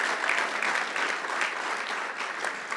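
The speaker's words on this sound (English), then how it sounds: "let's give a round of applause to all the great workers that make this town great" An audience at a Town of Hempstead induction ceremony claps steadily for town workers, a brief even round of applause from a seated crowd.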